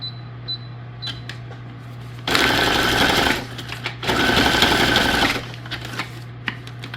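A sewing machine stitches through a paper junk journal tag in two loud, steady bursts of about a second each, with quieter handling noises and a low hum between them.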